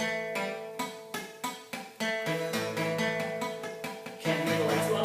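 Electric guitar strings damped with the fleshy part of a fingertip, giving short plucked strikes at first and then a more sustained ringing chord passage, played alone at moderate level.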